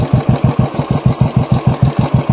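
A 2017 Royal Enfield Classic 350 single-cylinder engine idles up close, a loud, even thumping pulse of about six beats per second with no talk.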